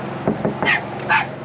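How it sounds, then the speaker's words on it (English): A small guard dog at an auto shop gives a quick run of four short, high yips and barks, close by over a quiet background. "That dog is vicious"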